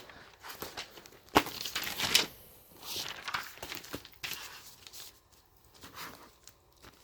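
A sheet of homework paper is handled near the microphone with scattered crinkles, rustles and sharp taps, some louder bursts early on, then quieter shuffling, without speech.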